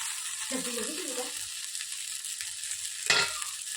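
Gram flour pudla frying in a pan with a little oil added around the sides, giving a steady soft sizzle with a brief stirring clatter and a sharp scrape near the end.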